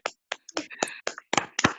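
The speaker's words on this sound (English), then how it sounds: "Thank you for the virtual clap" Individual hand claps come over an online meeting connection, about nine sharp, separate claps at an uneven, quick pace. They are close but quiet, with no continuous talk under them.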